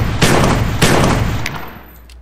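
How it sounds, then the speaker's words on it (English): A Browning Auto 5 semi-automatic shotgun fires in a Minecraft battle game, two loud booming shots about half a second apart, followed by fainter sharp clicks as the sound tails off. "And then here's the Browning Auto 5. This one is semi-auto. Shoots really fast"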